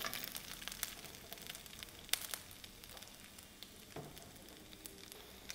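Cardamom pods fry in ghee for tender coconut payasam, giving a faint, steady crackle and sizzle with scattered small pops and no talking.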